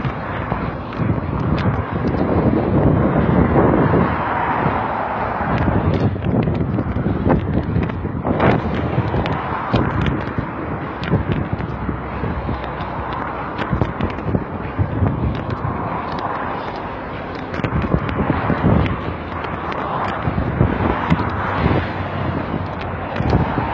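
Strong, steady wind roars and buffets the microphone while rollerblading along a seaside cycle path at Saint-Aygulf, with loud broadband rumble and gusty swells for the whole stretch, no voices.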